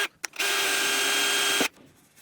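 A power drill bores a 2.5 mm hole in a laminate kitchen drawer for a campervan, a short tap followed by a steady, high whine that runs about a second and a half and then stops.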